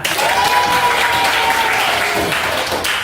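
Fifth-grade pupils in a civics classroom applaud together, loud dense clapping lasting a few seconds, with a faint chanted tone ringing over it at the start.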